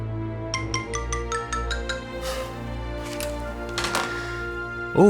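A phone ringing in an indoor drama scene: a rapid series of bright electronic trill pulses followed by a warbling ring tone, loud and close, with no talking.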